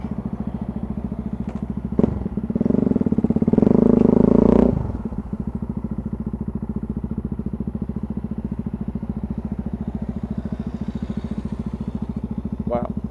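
Yamaha XT660Z Tenere single-cylinder motorcycle with an aftermarket exhaust, idling steadily nearby with a brief louder rev around the middle, then settling back to a lumpy idle with a few clanks.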